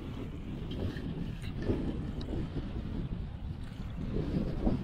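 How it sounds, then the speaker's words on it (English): Strong wind buffets the microphone on open saltwater during an inshore fishing trip, a steady rumbling roar with light choppy water beneath and no speech. "Oh, it is very windy."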